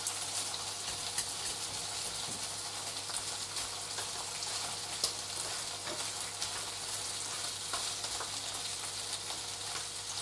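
Butter and meat sizzle steadily on a barbecue grill, a continuous close crackling hiss with small pops throughout and no talking.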